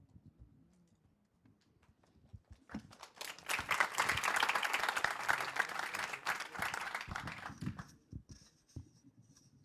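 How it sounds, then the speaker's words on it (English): A crowd at a justice conference panel breaks into applause for the panelists and moderator, a quiet start swelling into a dense, sustained round of clapping that fades off near the end. "can we give them a big round of applause of gratefulness to our panel and our moderator"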